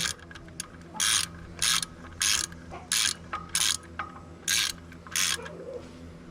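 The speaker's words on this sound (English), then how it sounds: "And we're going back to our 17 millimeter. I've got mine on a 4-inch extension." A ratchet on a 4-inch extension snugs a 17 mm bolt during an RK25 tractor service, giving eight crisp bursts of clicking in quick bursts with short pauses, close and loud.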